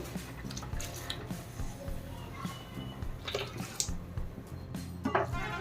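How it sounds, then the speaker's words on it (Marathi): Washed rice is tipped into a pot of boiling water, giving scattered soft splashes, drips and wet squishes, fairly quiet and irregular, with brief faint sounds around them. "आता ह्याच्यामध्ये टाकून घेते मी धुतलेले तांदूळ"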